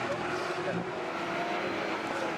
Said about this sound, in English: Cammish thinks about the inside line, but Will Martin able to cover that off as the cars now accelerate out of Agostini.